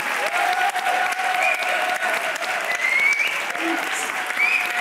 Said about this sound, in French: Et pour finir, un tonnerre d'applaudissements.